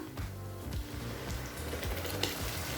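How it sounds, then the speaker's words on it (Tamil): Coriander paste added to softened onions in a pan for coriander rice, cooking with a steady low sizzle and faint stirring scrapes, no voices. "இப்போ அரைச்சி வச்சுருக்க கொத்தமல்லி விழுதை இதில் சேர்த்துக்கலாம்."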